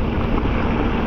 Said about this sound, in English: The wind is certainly pretty strong today